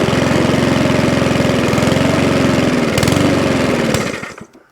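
A Mountfield 414/416 lawnmower engine runs loud and close with a steady rapid chug that surges slightly, then cuts away at the end.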